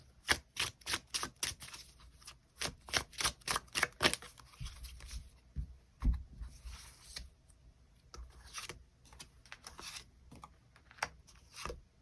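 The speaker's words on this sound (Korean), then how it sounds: "추가 카드 뽑아보도록 하겠습니다." Tarot cards are shuffled and drawn in quick, crisp riffling bursts, nearby and clear. Short gaps fall between the clusters of flicks, and no voice is heard.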